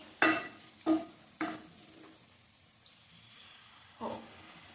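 Food, likely egg curry ingredients, sautéing in a pan with a soft sizzle, broken by four spaced bursts of stirring and scraping, quiet and close.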